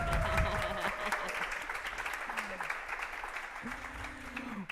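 Audience applause at a Sunday of the Word church community gathering, a dense steady wash of clapping that slowly fades, with a voice speaking over it.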